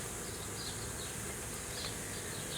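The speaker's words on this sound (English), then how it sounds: "It's just a lot of bees" A swarm of honey bees buzzes in a steady, dense drone, many wings humming together at low volume without pause.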